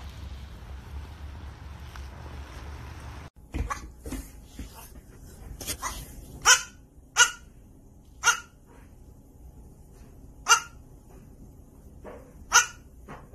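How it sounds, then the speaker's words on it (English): A dog barks sharply and loudly in a run of single barks about one to two seconds apart, close by, after a stretch of low rumbling background. "Are you barking?"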